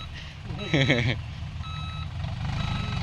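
A truck reverses with its backup alarm sounding, a few evenly spaced high beeps over a low idling engine rumble, while a man briefly calls out nearby.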